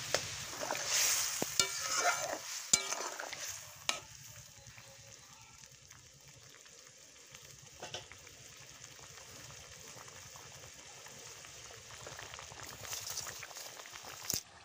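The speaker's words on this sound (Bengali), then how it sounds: "এবার আমি এই শঙ্কর মাছ বা শাপলা পাতা মাছগুলো, ভাজা মাছগুলো দিয়ে দিচ্ছি" Fried stingray fish pieces go into a pot of boiling curry in a Bengali village kitchen, giving a bubbling simmer and soft sizzling with occasional stirring and splashes, louder in the first few seconds, then a steady low boil.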